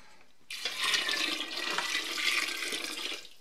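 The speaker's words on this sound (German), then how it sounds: "Nun schütten wir wieder alles hinein." Water, honey and pumpkin for homemade mead poured back into a cooking pot: a close, steady splashing pour that lasts about three seconds, with no talk.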